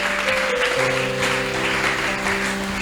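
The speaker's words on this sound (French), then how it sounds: "Est-ce qu'on peut acclamer Jésus?" A church congregation applauds in a steady, dense wash of clapping with sustained tones from an instrument or organ underneath, heard close and loud throughout.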